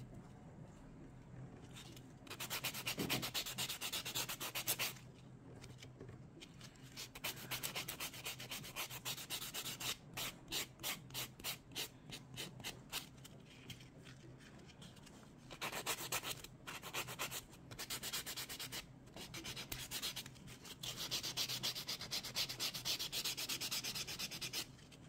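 Nail file and buffer scrubbing fingernails to clear leftover glue after press-on nails come off, close and faint: long stretches of rasping with bursts of quick back-and-forth strokes, briefly pausing now and then.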